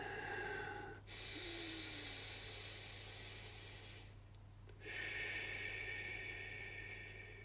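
Deep, slow breaths close to the microphone, two long hissing inhales or exhales separated by a short pause, breathy and steady with no talk over them.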